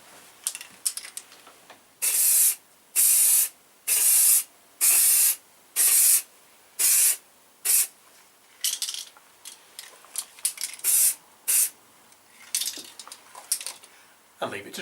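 Primer sprayed from an aerosol can as a fine dust coat onto a motorcycle radiator guard for a Kawasaki Z750R in a garage: about eight steady hissing bursts of roughly half a second each, then a run of shorter, quicker sprays, close and loud.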